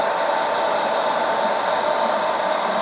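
A hair dryer blows hair in a salon during a glam perm styling session, giving a steady, loud whooshing roar that holds unbroken throughout with no talk.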